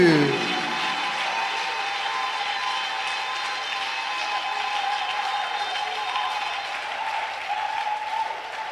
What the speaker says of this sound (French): Oh, give the Lord a clap of praise.